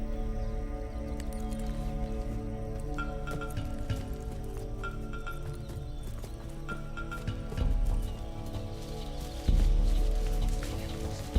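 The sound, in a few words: horse hooves and whinny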